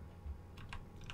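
Computer mouse clicking during a session of the survival city-builder Endzone: A World Apart, heard as three or four short, sharp clicks close to the mic, spaced irregularly over a low steady background hum, with no talking.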